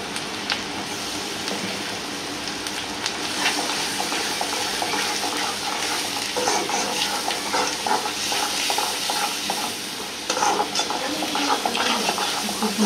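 Masala of ginger-garlic paste and ground chili being stir-fried in a pan for prawn curry, a dense, constant sizzle with frequent stirring scrapes and clatter, close and fairly loud.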